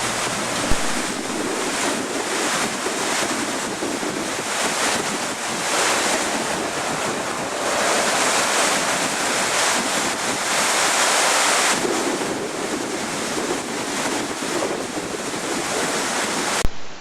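The Upper Sunwapta Falls, a continuous loud rushing roar of falling water, mixed with gusty wind buffeting the microphone, with no one talking.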